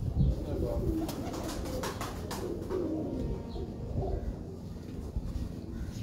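Firozpuri pigeons coo in a breeder's loft, low murmuring calls rolling on steadily with bursts of chirping and other bird sounds, faint voices mixed in.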